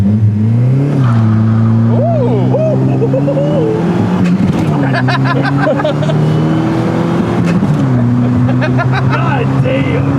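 A 1987 car engine revs hard toward redline while accelerating, loud and close, its pitch climbing, dropping at each gear change and climbing again; people talk over the engine throughout.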